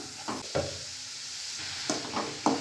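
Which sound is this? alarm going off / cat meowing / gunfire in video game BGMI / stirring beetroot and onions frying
stirring beetroot and onions frying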